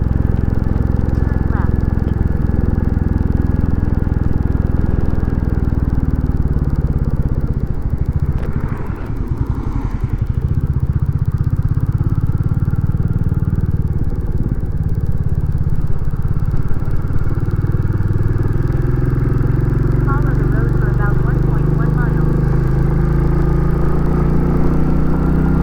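A Royal Enfield Classic 350 motorcycle being ridden on the road, its steady engine thrum and wind rumble loud and continuous from the rider's position, with someone talking over it at times.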